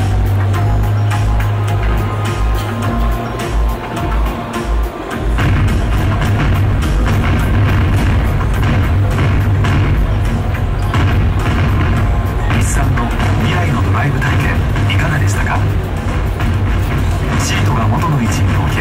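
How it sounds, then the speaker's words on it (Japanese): Fireworks bang and boom in a simulated drive demo of the Nissan IMx concept car at the 2017 Tokyo Motor Show, a dense, loud crackling wash that starts abruptly and continues steadily. "花火の音が聞こえてきましたね。"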